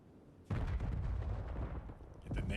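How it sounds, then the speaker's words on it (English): Explosions in a Call of Duty match during a professional CDL esports broadcast, a sudden heavy blast followed by continuous rumbling battle noise and a second burst near the end, loud and close. "Explosions ringing out"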